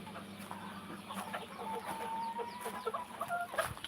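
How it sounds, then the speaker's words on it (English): A hen with six chicks in a garden clucking softly, with thin high peeps from the chicks scattered throughout, fairly faint and close, no talk. "the hen that has 6 chicks,"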